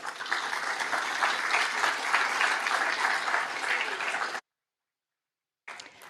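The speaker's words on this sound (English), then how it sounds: "give a round of applause to each and every one of you for attending today" A town hall audience on homelessness in Wichita gives a sustained round of applause, dense and even for about four seconds before cutting off, then resuming briefly.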